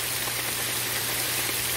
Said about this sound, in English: Now not only do we have flooding and tons of rain, we now have hail.